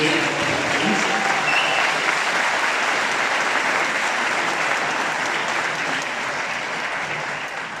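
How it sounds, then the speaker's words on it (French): Audience at a Kemi Seba press conference applauding loudly, a thick, continuous roar of many hands clapping that holds steady for nearly eight seconds and eases off slightly at the end. "je vous demande d'applaudir fortement"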